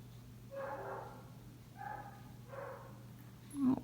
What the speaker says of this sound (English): The neighbor dogs are barking.